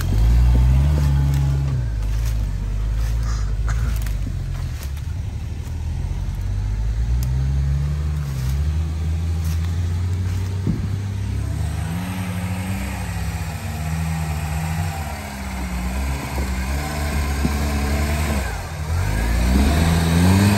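A sporty Niva off-roader crawls over rocks with its engine droning loud and steady, revving up and down as it strains across the stones, with a brief knock or scrape partway through.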